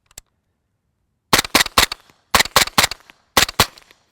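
Suppressed 9mm pistol fired through a Rugged Suppressors Obsidian 9 modular silencer: a single muffled shot, a pause, then three rapid strings of about three to four sharp cracks each, close and loud with no talking.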